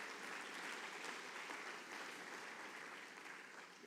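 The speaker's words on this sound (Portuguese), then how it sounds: "Aplaude o Senhor em nome de Jesus." Applause from a congregation during an evening church service honoring a pastor, a continuous wash of many hands clapping, fairly distant and faint, sustained throughout.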